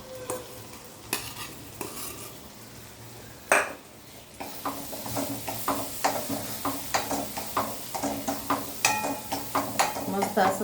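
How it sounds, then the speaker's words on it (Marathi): Red masala for mutton curry frying on low gas, stirred steadily with a utensil: rhythmic scraping strokes and clinks against the pot repeat over a soft continuous sizzle, close and fairly loud, with no talk. "मस्त असं फ्राय करत राहायचं सारखं त्याला, नाही तर चिटकणार।"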